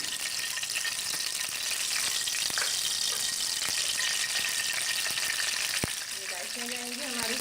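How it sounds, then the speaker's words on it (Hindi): Cardamom pods sizzle in hot ghee for a tempering, a steady loud crackling hiss close by with a few sharp pops, and faint tonal sounds rising near the end. "ये इलायचियाँ हैं बघार के लिए"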